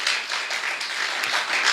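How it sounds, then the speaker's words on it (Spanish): Church congregation applauding, a dense wash of clapping filling the space without pause, moderately loud and steady. "Denle un aplauso al Señor."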